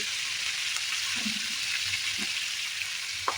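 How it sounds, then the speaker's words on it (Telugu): Bay leaf, curry leaves, onion leaves, dried chillies and fenugreek leaves fry in hot oil, giving a steady, even sizzling hiss throughout with faint stirring bumps and no talking. "బిర్యానీ ఆకు వేసి బాగా వేయించుకోవాలి"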